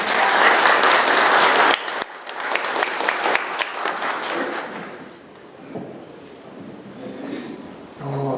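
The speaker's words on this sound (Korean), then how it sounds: "뜨거운 박수로 자리에 모시겠습니다." Warm applause from attendees at a Korean security lecture greeting a former National Intelligence Service director, loud and dense at first, then breaking into scattered claps and fading to quiet murmurs.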